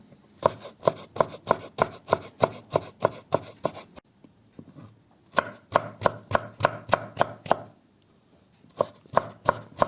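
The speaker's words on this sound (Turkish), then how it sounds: "Sarımsakları da minik minik doğrayacağım." Rapid, steady knife chops on a cutting board as garlic is finely chopped, close and crisp, in two long runs separated by a brief pause, with a short burst at the end.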